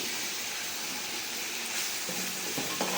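Tomatoes and green chillies frying in a pan, a steady close sizzle with soft stirring scrapes and no talk.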